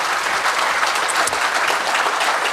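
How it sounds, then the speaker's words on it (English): An audience claps steadily at the opening ceremony of an African philanthropy conference, a dense, even round of applause from a large crowd, loud and continuous without voices. "big round of applause."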